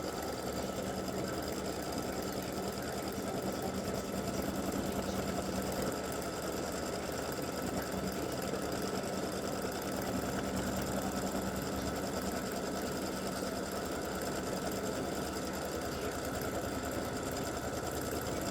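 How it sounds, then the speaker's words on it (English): An embroidery machine runs a satin stitch around the edges of an appliqué bow, a continuous dense mechanical hum with rapid needle chatter, steady and unbroken throughout. "it's going to do a satin stitch all the way around the bow"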